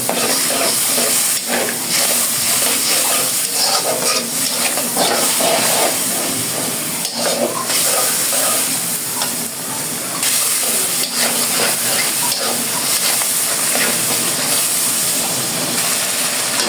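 Spice masala with a splash of water sautés and is stirred in a pan for a fish curry, a loud, steady sizzle and hiss broken by scraping stir strokes, continuous throughout with no voices.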